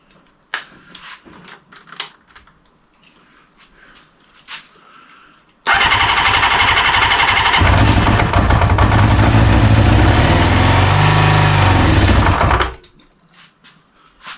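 Kawasaki GPz400r motorcycle with a rebuilt engine, first start attempt on starter spray: after some quiet clicks, a loud, close engine bursts into a rough, steady run for about seven seconds, then cuts out abruptly.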